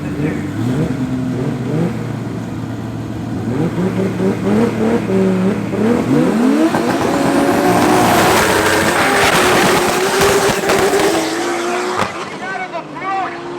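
Drag racing cars at an MSA Regionals meeting at Tarlton International Raceway launch hard down the strip, loud engines revving and rising in pitch as they accelerate away, with a commentator talking over the roar.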